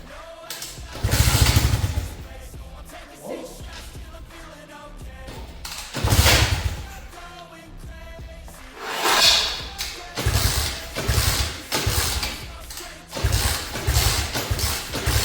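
A fake Yamaha pit bike engine being pull-started, several separate bursts of cranking effort that each fade without the engine catching, loud and close.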